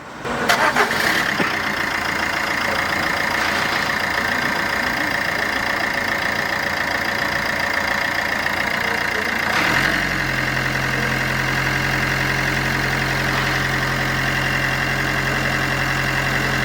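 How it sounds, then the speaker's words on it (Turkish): A 2013 Fiat Doblo 1.3 diesel engine cranks and catches, then settles into a steady, loud close-up idle with a constant low drone and a slight change in tone partway through. No one speaks. "Araca marş yapıyoruz."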